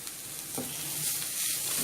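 Ginger garlic paste frying for carrot rice, giving a steady bright sizzle with a brief stir near the middle, close and fairly quiet.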